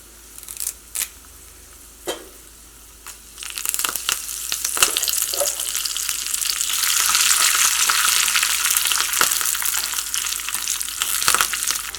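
Mustard seeds, dried chillies and curry leaves splutter in hot oil, starting with a few sharp isolated pops and building into a loud, continuous crackling sizzle with scattered bursts; no one speaks.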